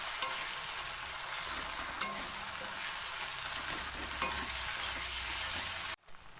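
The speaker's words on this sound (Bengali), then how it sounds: "2 মিনিট কষিয়ে নেব।" Ginger-garlic paste is sautéed in a pan with a soft, continuous sizzle and occasional light spatula taps, steady throughout before cutting off abruptly near the end.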